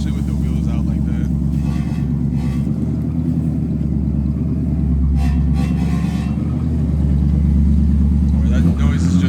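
A Nissan 240 with its body kit removed idles with a steady, loud, deep exhaust rumble that holds evenly for several seconds, with a voice talking over it.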